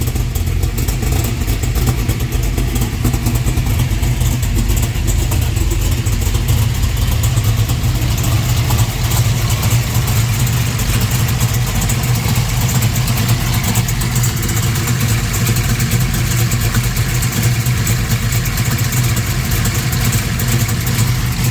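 A 1969 Camaro RS with a 598 cubic inch tall-deck V8 and MagnaFlow X-pipe exhaust idling steadily, a loud, deep, continuous rumble with mechanical clatter over it that runs unchanged for the whole stretch.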